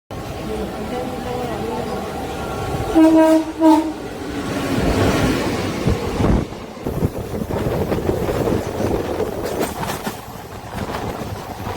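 An express passenger train pulls into a railway platform at a station on the way to Bolpur, with a brief horn blast and rumbling carriages mixed with wind buffeting and platform noise, while people talk nearby.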